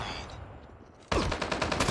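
Rapid automatic gunfire from a shooter in Call of Duty Mobile bursts in loudly after a quieter first half, a dense run of shots continuing to the end.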